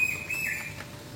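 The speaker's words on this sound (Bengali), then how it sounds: "কি একটা পাখিও ডাকছে জোরে জোরে, খুব সুন্দর একদম।" A bird calls loudly nearby, one clear, sustained high-pitched call lasting about a second against quiet background hiss.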